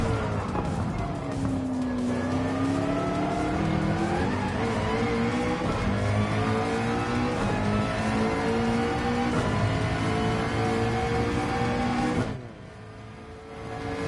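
A McLaren race car in Gran Turismo 7 at the Red Bull Ring roars loudly and steadily, its engine pitch climbing through gears with tire squeal, then drops off abruptly near the end.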